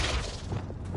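The Flipendo spell cast in Hogwarts Legacy, a single short, dense magical whoosh with a low rumbling burst, close and loud, with no speech.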